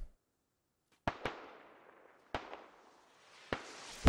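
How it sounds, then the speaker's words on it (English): Rocket explosions from a salvo in the military shooter game Squad: five sharp booms in uneven pairs and singles, each trailing off into a long rumbling decay, the last one loud and close. "More rockets incoming."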